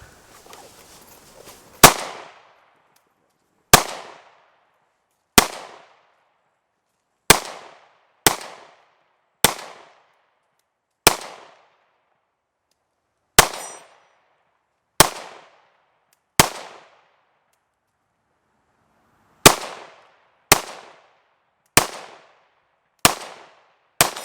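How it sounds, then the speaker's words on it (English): A Ruger 57 pistol fires at steel plates about 40 yards away outdoors, with about fifteen sharp separate shots spaced a second or two apart, each cracking loudly and then ringing briefly. "now we're shooting at those steel plates that are about 40 yards back"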